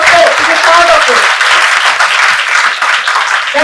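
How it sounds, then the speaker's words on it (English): Loud applause from a conference audience at a national IT and computer science event, dense continuous clapping filling the room for several seconds without a break. "can we have a round big of applause for information technology and computer science?"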